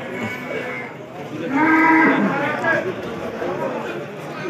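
Limousin cattle at Pasar Paing Pati livestock market give a loud, drawn-out moo amid constant crowd chatter and talking nearby.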